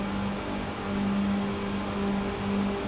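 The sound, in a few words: race car alongside, iRacing video game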